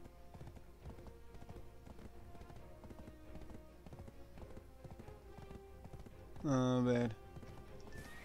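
Horse hooves clip-clop in a steady rhythm in the video game Black Desert, soft and continuous, while a voice briefly speaks over them.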